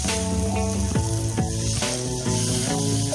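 Fried potatoes tumbling into rice and spices frying in a pan for Bengali muri ghonto, a loud crackling sizzle with stirring, overlaid by steady tonal music.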